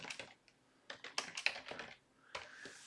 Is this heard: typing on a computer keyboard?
yes